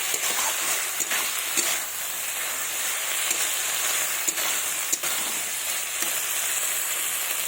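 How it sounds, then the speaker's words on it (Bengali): Spice paste is worked by hand into pieces of pona fish for a grilled fish dish, a close, continuous wet squishing and rubbing with occasional soft clicks, steady throughout and with no talking. "এবার নেড়ে চেড়ে এইভাবে ভালোভাবে মাখিয়ে নিচ্ছি"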